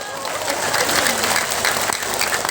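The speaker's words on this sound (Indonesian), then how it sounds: "tepuk sing banter" A large gathering at a haul religious event breaks into sustained, loud applause, a steady wash of many hands with a faint crowd murmur underneath.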